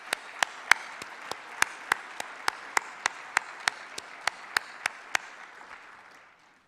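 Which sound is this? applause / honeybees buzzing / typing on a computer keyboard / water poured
applause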